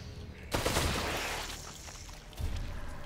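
Gunfire bursts and a heavy booming blast in The Evil Within 2 sound loud and close, with a second impact toward the end, over a low background rumble.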